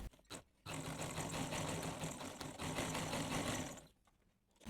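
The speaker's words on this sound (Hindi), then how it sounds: "तो चलें सिलाई लगा लेते हैं।" Sewing machine stitching the neckline of a garment, a steady continuous mechanical whir running for about four seconds after a brief start, then stopping.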